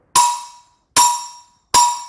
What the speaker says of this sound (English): All right, so let's move on to a son clave now.